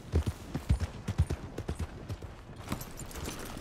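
Horse hooves clop in a steady walking rhythm in Red Dead Redemption 2, clear and fairly close, the hoofbeats gradually blending into a softer rustling background.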